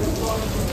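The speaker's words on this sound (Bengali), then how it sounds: "বৃষ্টি শুরু হয়েছে" Rain beginning to fall at an outdoor breakfast stop near a forest outside Kolkata, a dense, close patter of drops hitting surfaces, steady throughout the brief moment.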